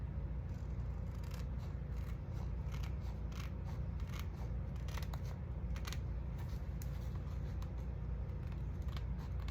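Scissors cut through glued paper for a small altered mini calendar craft, giving a steady run of close, crisp snips and rustling scrapes over a constant low background hum.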